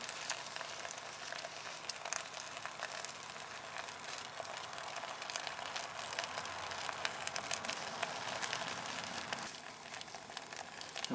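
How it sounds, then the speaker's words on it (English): Raw pine resin pitch heating in a can set over a fire, giving a steady, continuous crackling sizzle with fine popping throughout, fairly close and even in level, no voices. "That sizzling sound is the pitch heating up."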